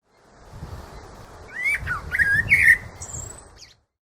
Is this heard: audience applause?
no